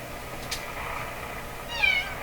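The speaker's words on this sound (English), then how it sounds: "I heard a cat." Cat meowing indoors near a front door, one short faint meow partway through followed by a brief rising call near the end, over a steady background hiss.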